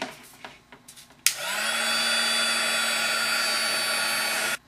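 A handheld heat tool used for card making switches on with a sudden loud whoosh and blows with a steady, even roar and a faint hum for about three seconds, then cuts off abruptly after some light handling noises.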